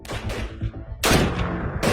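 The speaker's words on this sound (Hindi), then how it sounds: "आतंकवादियों ने भागने के इरादे से हमारे ऊपर फायर शुरू कर दिया।" Gunfire rings out during a counter-terrorist operation as militants open fire while trying to flee, with a few scattered shots followed by a louder, sharper volley near the end.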